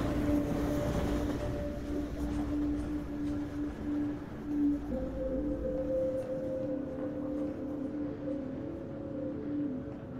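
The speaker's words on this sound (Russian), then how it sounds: "это дрожит то, что поезд едет" A train rumbles past in the video game Half-Life 2, shaking the surroundings with a sustained low rolling roar and a steady droning tone that shifts pitch midway, then slowly fades.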